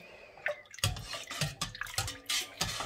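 Yarn being stirred with tongs in a dye bath gives wet sloshing, dripping and splashing, with irregular liquid bursts and drips close by and no talking.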